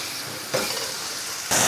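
Steak dropped into a hot oiled skillet over medium heat, a steady broadband sizzle that flares up at the start and swells louder near the end, close and alone with no talking.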